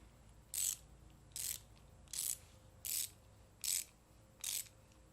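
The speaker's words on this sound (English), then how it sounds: "Stanley ratchet." Six evenly spaced bursts of rapid clicking from a Stanley ratcheting screwdriver, close and crisp over a quiet background.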